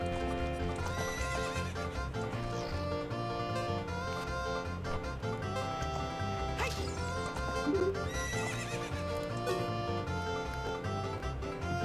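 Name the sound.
horse neighing and hooves in Zelda: Ocarina of Time video game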